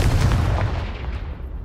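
A Confringo fire spell blasts in Hogwarts Legacy, a loud, booming explosion with a heavy low rumble that hits at once and then trails off over about a second and a half.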